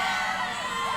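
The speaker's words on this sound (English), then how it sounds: "where a crowd had gathered to see them off." A gathered crowd cheers and shouts to see off a space elevator launch, a dense wash of distant voices and whoops.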